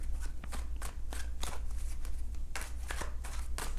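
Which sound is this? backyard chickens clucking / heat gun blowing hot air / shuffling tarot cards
shuffling tarot cards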